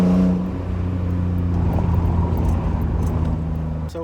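A BMW E46 M3 with a check-engine light fault is driven, its engine giving a steady low drone with a loud hum that settles into even road rumble, heard from inside the car without talk.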